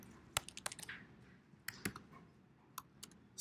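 A command being typed on a Mac computer keyboard to open Finder, heard as a quiet, close series of irregular key clicks with short pauses between them and no talk.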